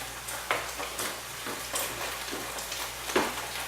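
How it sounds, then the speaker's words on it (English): Broccoli, mushrooms and other vegetables steaming in a pan with chicken broth, giving a steady soft sizzle and hiss with a few louder scraping stirs scattered through. "Both pans are over here steaming up. I have my vegetables, which I'm going to stir around."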